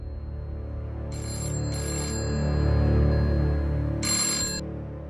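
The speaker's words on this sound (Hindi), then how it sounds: "मैं फोन सुन के आती हूँ।" A telephone rings in a short indoor scene, three bright electronic trill bursts separated by pauses, heard over a low background music bed.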